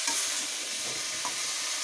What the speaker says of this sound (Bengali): পালং শাকটা দিয়ে এবার ভালো করে আরেকবার মিশিয়ে নেব।